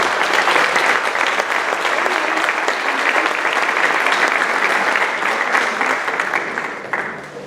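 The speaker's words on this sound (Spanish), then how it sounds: "Un aplauso para todos ellos" A crowd at a book launch gives sustained applause for the authors, a dense steady wash of clapping from many hands that tapers off at the end.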